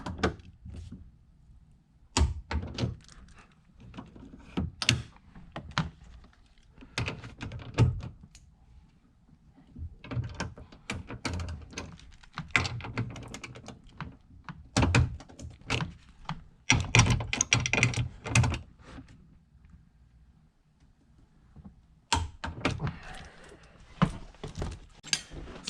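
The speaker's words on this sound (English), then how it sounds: "Let's torque these down with my non-cooperating torque wrench." Torque wrench and hand tools working on the bolts of a Honda Fit seat belt adjustment assembly, giving a run of sharp clicks, clacks and metallic thunks in irregular bursts, close by and moderately loud with no talking.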